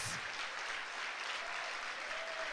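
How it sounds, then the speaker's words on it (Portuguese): Church congregation clapping, a steady, fairly faint burst of applause that fills the short clip without any talking over it. "Dá um aplauso, por favor, a Jesus"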